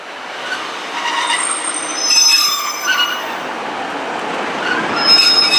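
A train on the Marston Vale Line pulls into Bletchley station, its wheels squealing in high, shrill tones over a steady rumbling hiss. The sound is close and loud, with no talk.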